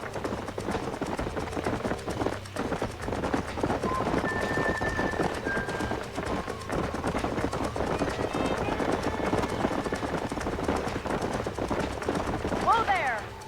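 Horses gallop in Red Dead Redemption, a ranch setting, with a continuous rhythmic pounding of hooves up close and a brief whinny near the end, running under game dialogue and voices.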